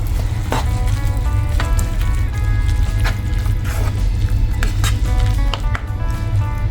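Prawn masala sizzling loudly in a pan as it is mixed, a dense continuous fry with repeated clicks and scrapes of the spoon through the thick gravy, close and without talk.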